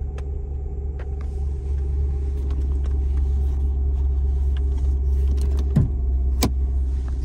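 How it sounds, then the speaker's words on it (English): A Mercedes-Benz CLS 550 AMG with 119,000 miles idles with a steady, deep engine rumble. Faint clicks and a brief knock break in near the end, and no one speaks. "That motor sound loud though, don't it?"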